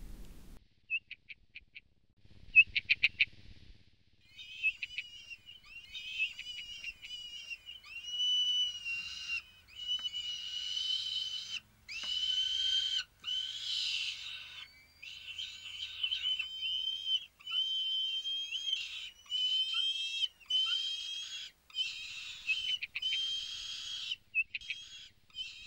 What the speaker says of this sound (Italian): il passero solitario, una specie di merlo dal bellissimo colore blu metallico